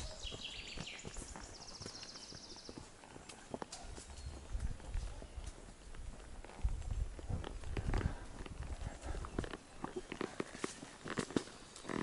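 Horses walk along a forest trail among oak trees, their hooves clip-clopping in a steady, fairly faint rhythm with light rustling around them.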